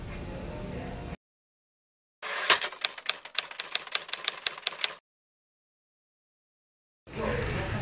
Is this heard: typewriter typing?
yes